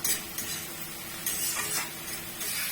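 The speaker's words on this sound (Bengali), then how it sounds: "এরম ভাবে আরো আস্তে আস্তে আর একটু ভাজা হবে" Malabar spinach (pui mituli) fries in oil in a pan, giving a faint continuous hissing sizzle with light utensil scrapes, close and quiet, no voices.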